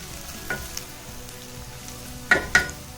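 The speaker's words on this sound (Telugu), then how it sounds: "ఉల్లిపాయ ముక్కలు బాగా వేయించుకుందాం" Onion pieces frying in hot oil for a potato and pea curry. A steady low sizzle is broken by several sharp spattering bursts and stirring clatters, two of them loud and close together near the end. No one speaks.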